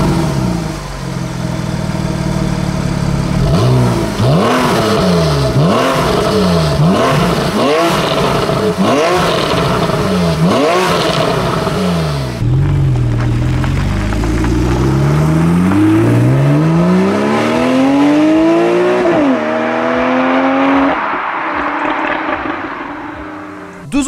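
Porsche 991 Carrera with sport exhaust revving loudly nearby, several sharp blips climbing and falling in quick succession, then a longer sweeping rev that rises through the gears and cuts off, no voices.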